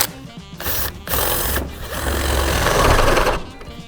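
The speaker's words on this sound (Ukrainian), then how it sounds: "Бачите, Як тільки надавлюю, захист працює, вимикається, шуруповерт продовжує працювати." Cheap Dnipro-M CD-218 cordless drill under load, its motor whirring loudly with short cuts and restarts early on as the overload protection trips, then a longer straining run, close to the mic.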